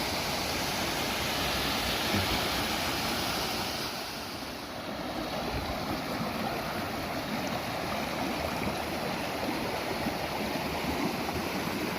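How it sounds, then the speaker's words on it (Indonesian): A small waterfall at the Umbulan Tanaka village nature site gives a loud, steady rushing roar that dips slightly for a moment and then holds constant, with no voices. "Ada air terjun kecil di sini."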